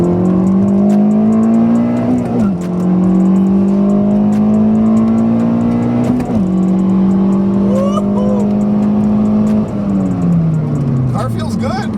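A 9th-generation Honda Civic with a billet short shifter accelerates hard, engine revs climbing steadily then dropping at each quick shift into second and third gear, loud and close from inside the car.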